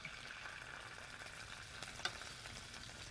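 Steady, faint hiss and crackle of shrimp sizzling in a hot pan, with a few soft clicks and pops rising above the frying.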